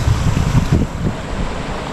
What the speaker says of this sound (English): There's a little river through the rocks.